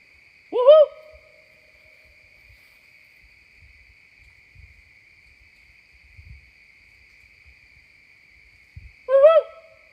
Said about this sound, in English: There's my owl.